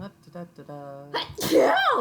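A single loud, explosive sneeze bursts out after some brief humming and talk, close and sudden.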